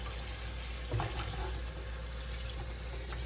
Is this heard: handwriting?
no